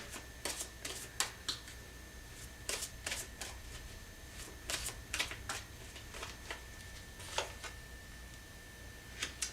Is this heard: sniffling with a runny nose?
no